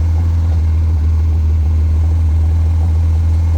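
A 1971 MG Midget engine runs just after a cold start, holding a steady, loud, close-up idle with a deep continuous drone and no breaks.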